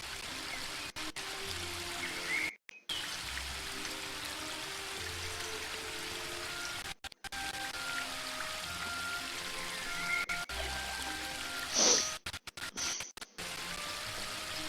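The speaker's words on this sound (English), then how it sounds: "get some water off the waterfall" A waterfall in The Book of Unwritten Tales 2 video game, a steady rushing wash of falling water running throughout with brief drop-outs and a few faint chimes.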